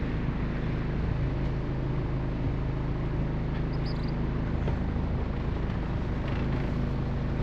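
A sailboat's motor drones steadily with a constant low-pitched rumble, loud and close, with wind noise and no talking.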